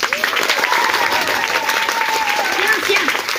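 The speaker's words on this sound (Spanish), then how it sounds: "Aplausos para la vaca Lola" Crowd applause fills a live Salvadoran comedy show, steady and dense from start to finish, with voices and cheers mixed into the clapping.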